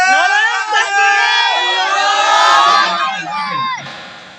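A large crowd shouts a takbir chant in unison, loud and close, the many voices swelling together in a sustained rising and falling call before tapering off.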